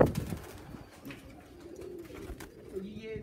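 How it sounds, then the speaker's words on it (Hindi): Flying pigeons (parwazi kabootar) coo softly outdoors, low and faint, with background noise. "तो ये थे आप लोगों के लिए वो परवाजी कबूतर"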